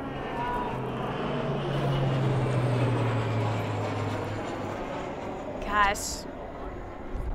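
A low-flying airplane passes overhead as a steady broad engine roar that builds through the middle and fades, with a voice exclaiming over it.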